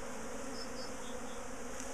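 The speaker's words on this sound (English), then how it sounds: "These are interesting bees, aren't they?" A steady, continuous buzz of honeybees hums throughout, a dense drone of many insects from a top bar hive colony being split and moved, with no talking.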